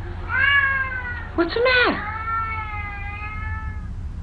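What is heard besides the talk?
Siamese cat meowing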